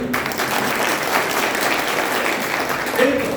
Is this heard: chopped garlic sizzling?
no